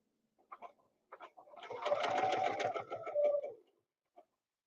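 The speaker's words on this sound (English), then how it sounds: "now I'm going to come here and I'm going to do 1/4 inch stitching away from everything" Sewing machine stitching a quarter-inch seam: a few short start-stop bursts, then a steady close mechanical run of about two seconds before it stops, with one last soft tick.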